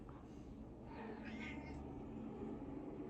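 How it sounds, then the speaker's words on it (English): An indoor house cat meows in a drawn-out, wavering call that swells midway, heard fairly close over a steady background hiss with no talking. "My cat's in here."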